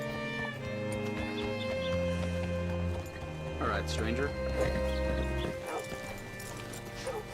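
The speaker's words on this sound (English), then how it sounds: "Hitch your horse up here." Horse hooves clip-clopping in the Western video game Red Dead Redemption 2, rhythmic steps under game music, with someone speaking over them and the hoofbeats slowing near the end.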